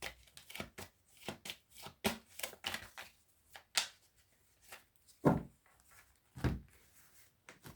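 Oracle cards are shuffled by hand in a series of quiet, irregular riffles and soft slaps, close up, with brief pauses between bursts.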